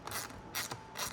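A ratchet snugs a 6mm bolt holding trike plastic trim, giving three short rapid bursts of clicking pawl close up, with brief pauses between strokes and no talking.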